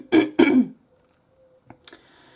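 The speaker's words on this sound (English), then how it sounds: "I do constantly feel the need to clear my throat" Two quick, close throat-clearing rasps, followed after a short quiet pause by a softer faint catch and breath.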